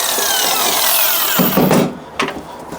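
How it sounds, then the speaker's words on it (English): Miter saw cutting through a wooden board for a DIY wooden star: a loud, close power-tool whine that deepens as the blade bites, then cuts off, followed by a brief trailing spin-down. "So now I'm going to take it over to my miter saw and make the cuts."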